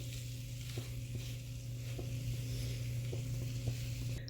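Chicken liver (kaleji) fries on a tawa while being stirred, giving a steady close sizzle under a constant low hum, with a few light scraping taps at intervals.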